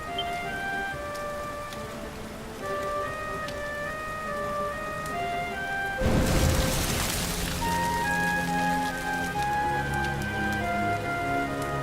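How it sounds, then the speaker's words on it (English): Rain falling in the Dragon Quest XI game, a steady patter and hiss beneath sustained tonal background music, with a sudden loud crash-like burst of noise midway before the rain and music continue. "Looks like the rain's dying down."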